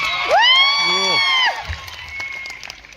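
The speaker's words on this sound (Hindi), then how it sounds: "सर कह रहे हैं इस कारण तालियां बजा रहे हो, आपको अच्छा लग रहा है?" Audience at a skill development event clapping and cheering, with loud whoops and shouts for about a second and a half, then scattered clapping that tapers off.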